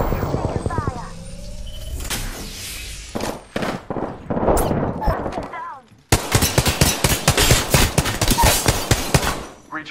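Apex Legends gunfire, rapid bursts of automatic shots in close, loud clusters with brief pauses and a sharp cut midway, mixed with game voice callouts.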